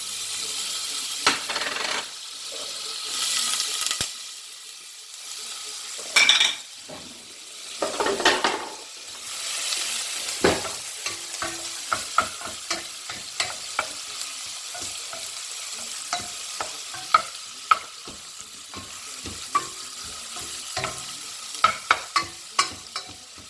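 Garlic and spices fry in butter in a pan, giving a soft steady sizzle broken by repeated sharp clinks and scrapes of a utensil stirring against the metal, close and clear.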